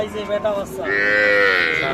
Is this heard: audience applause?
no